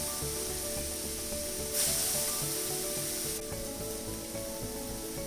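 Fish pieces are added one by one to a hot pan holding a little water instead of oil for a fish curry, giving a soft hiss that swells briefly into louder sizzling before settling to a quiet steady fizz.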